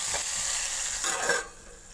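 Hot ghee sizzles and crackles steadily as spices and red chillies are stirred in for tempering dal, with a brief louder hiss of frying near the end before it settles.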